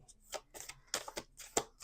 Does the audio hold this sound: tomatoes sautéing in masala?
no